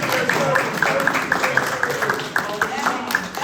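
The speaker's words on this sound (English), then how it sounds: "so that deserves another applause" Applause from an audience at a 15th Police District council meeting in a hall, steady dense clapping held for several seconds with a few louder claps standing out.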